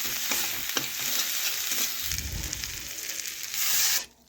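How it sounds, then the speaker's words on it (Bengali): Salt is stirred into a fish curry of koi fish frying in a pan, with a constant sizzle under rhythmic spatula scrapes and a low rumbling swell midway before the sound cuts off near the end. "তো লবণটা ভালোভাবে আমি মিশিয়ে নিচ্ছি।"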